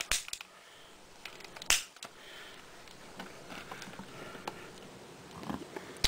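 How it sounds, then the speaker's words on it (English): A Marvel Legends Abomination action figure's ratchet joint gives a few sharp, close clicks while the figure is handled in an otherwise quiet room. "a nice click gear articulation there"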